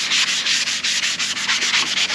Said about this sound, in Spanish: Vamos a dar una lijadita. Bueno, vamos a utilizar esta esponja.